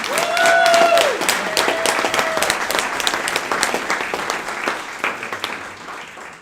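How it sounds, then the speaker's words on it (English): A graduation audience applauds the graduates with a full, loud wash of clapping and some crowd noise, a brief voice or whistle-like tone early on, the clapping slowly thinning toward the end. "give these graduates another round of applause"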